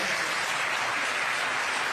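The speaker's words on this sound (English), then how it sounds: "you're clapping" Audience clapping at a campaign rally in Iowa, a dense steady wash of applause filling the space, fairly loud and continuous without a break.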